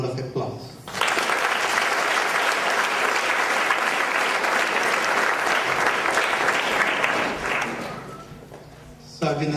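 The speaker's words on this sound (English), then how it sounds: "a big round of applause" Audience applause at a silver jubilee celebration for Swami Dheerananda, a dense, steady wash of clapping that swells in after a second, holds loud for about seven seconds, then fades out with a brief return at the end.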